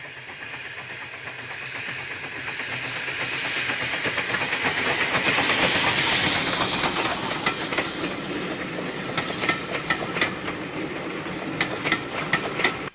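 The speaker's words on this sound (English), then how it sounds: "The resident LMS inspection saloon is teamed up with the tank engine for this Loughborough departure." A steam tank engine paired with an LMS inspection saloon pulls away from Quorn and Woodhouse station toward Loughborough. A broad roar of hissing steam swells and then fades, followed by rhythmic clicks of wheels over rail joints as it moves off.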